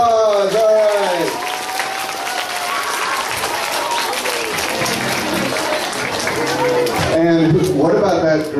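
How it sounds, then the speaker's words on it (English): Audience applause after a school production of The Lorax, a dense steady clapping that fills the room for several seconds, with crowd chatter and voices talking over it throughout. "give them another round of applause"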